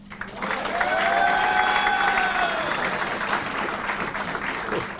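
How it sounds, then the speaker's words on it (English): An audience at a military awards ceremony applauds steadily, with a few whoops and cheers rising over the clapping before it slowly thins out. "Clearly brought his own cheering section there"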